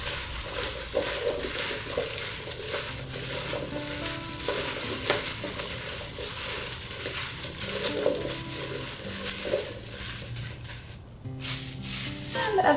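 A seasoned Mediterranean summer salad is tossed in a bowl close by, giving a continuous busy rustle and clatter of leaves and pieces moving against each other, steady and fairly loud.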